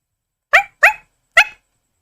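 A voice imitates a dog, giving three sharp, close barks, two quickly together and then one after a short pause.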